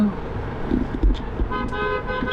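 Busy Hyderabad road traffic near Charminar in the evening, with engine rumble and several short car horn toots, nearby and fairly loud.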